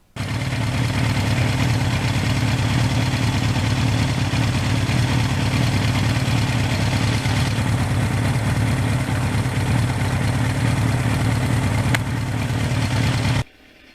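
A 1982 Suzuki GS1100E motorcycle engine drones steadily and loudly at a constant pace for the whole stretch, cutting off abruptly at the end.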